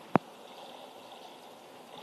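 Faint, steady watery wash from swimming in the video game Gangster Vegas, with one short knock near the start and no talk.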